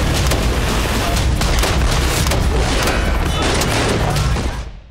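Rapid pistol gunfire, fifteen rounds in a fatal shooting inside a home, captured by CCTV: a dense, loud, distorted barrage of overlapping bangs filling nearly five seconds before cutting off abruptly.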